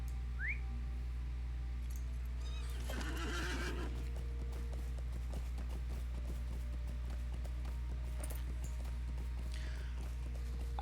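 A horse whinnies loudly in the online game The Lord of the Rings Online, a long rising and falling neigh near the start, with hoof clip-clops and soft game ambience continuing underneath.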